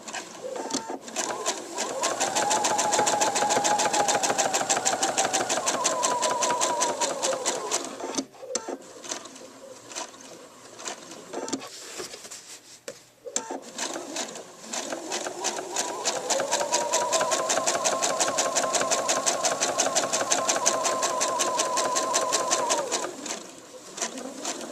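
A PFAFF sewing machine with a top stitch foot stitches in two long steady runs of rapid motor whirring, with a brief pause for pivoting at a corner between them.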